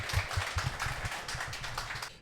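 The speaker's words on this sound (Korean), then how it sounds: "박수 부탁드립니다." Audience applause at the close of a travel talk, a dense crackle of many hands clapping steadily for about two seconds before tapering off.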